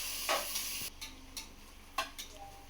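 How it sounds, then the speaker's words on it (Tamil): Ingredients for veg biryani sauté in a pan, giving a steady low sizzle broken by a few soft scraping stirs close by, with no voices. "வதக்கு, நல்லா வதங்கட்டும்."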